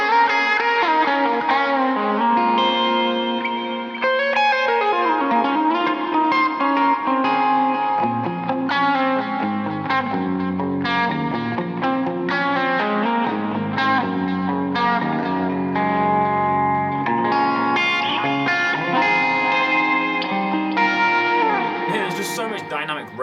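An electric guitar played through its bridge pickup with the tone control turned up, running through effects with distortion and echo; chords and melodic lines ring out loud and continuous for the whole stretch with no talking.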